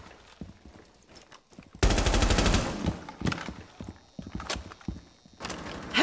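A rapid burst of gunfire in Rainbow Six Siege, a loud automatic rattle lasting about a second, followed by scattered thuds, footsteps and sharp single impacts at lower level.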